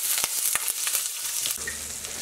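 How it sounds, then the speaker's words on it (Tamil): Butter melting and sizzling in a hot pan for paneer lababdar, a steady fizzing crackle with a few sharp spatters and a utensil clink or two, close and alone. "பட்டர் போட்டு பட்டர் மெல்ட் ஆனதுக்கப்புறம்"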